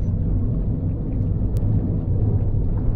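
Huge low groaning rumble of an animated ship sinking, the SS CoolDude, a loud continuous deep churning roar with grinding undertones and a brief faint high squeal midway, no voices.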